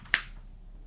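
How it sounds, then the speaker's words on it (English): A single hard finger snap, one sharp crisp click close by, followed by a faint quiet room with no talk. "I gave the hard finger snap and a point to our youngest daughter"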